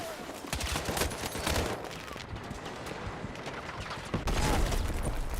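TR7 rifle fire in Battlefield 6 rattles continuously as rapid automatic bursts, loud and close, with dense overlapping shots and a heavier surge of firing near the end.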